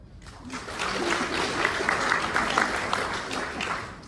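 An audience at a players club event applauds, a sustained, even crowd of clapping hands at moderate level that swells slightly and carries on without talk.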